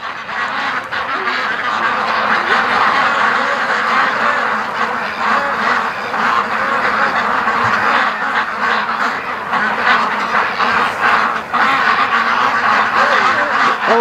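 A flock of ducks, startled by someone on a roof, keeps up a loud, steady overlapping quacking chorus near a lake, close and unbroken throughout.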